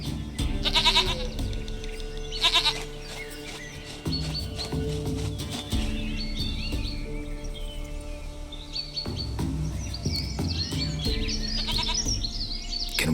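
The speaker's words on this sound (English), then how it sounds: "Goat of mine, dearest," A goat bleats in The Witcher 3 fantasy game, two short quavering calls early on over a busy bed of game music and ambient sound, with chirping bird-like tones later.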